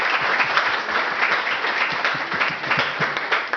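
A church congregation applauding the Lord during a service, with dense, steady clapping from many hands that holds at an even level throughout.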